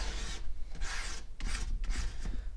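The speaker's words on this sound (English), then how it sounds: "But just really try to scrape that mat." Squeegee scraping residue off an older Cricut cutting mat, several rough rasping strokes in a steady back-and-forth rhythm, close and moderately quiet with no talking.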